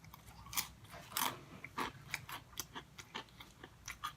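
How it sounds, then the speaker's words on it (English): Crunchy KFC Chizza chicken being bitten and chewed close up, a string of sharp crackling crunches in irregular rhythm over about four seconds, with no talking. "Got decent crunch, good flavor, got a hint of spice to it."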